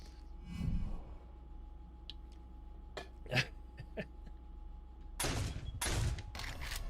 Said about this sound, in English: I just got killed by my own turret.